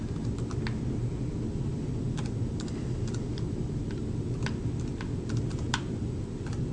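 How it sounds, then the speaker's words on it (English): Rapid, steady keyboard typing close by, a dense stream of light clicking keystrokes over a constant low hum, no talking. "we're just going to type that in"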